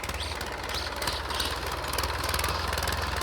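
A tractor engine running in a field, a steady low rumbling drone with broadband noise, continuous and fairly distant, with no talk.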